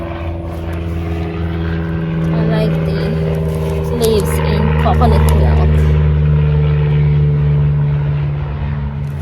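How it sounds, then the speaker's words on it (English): A small propeller plane passes overhead in a garden, a steady low drone that swells in the middle and fades, heard under nearby talk. "There's a small plane passing by."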